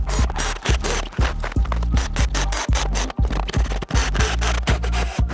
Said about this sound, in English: So let's put these pocket hole screws in.